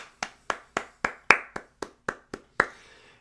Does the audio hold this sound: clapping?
yes